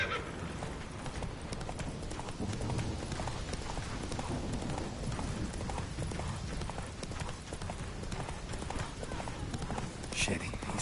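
Hooves of a horse galloping in the video game Witcher 3 clatter in a fast, steady clip-clop rhythm throughout, with an occasional whinny and a voice talking over it.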